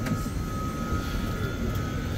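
Steady, close, even drone of an Emirates airliner cabin, with low rumble and a faint constant whine running unchanged throughout and no voices.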